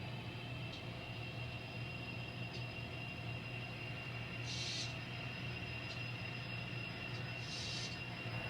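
An N scale model train runs along its layout track at about 8 scale miles an hour, giving a steady low mechanical rumble and hum with faint clicks, continuous and without talk.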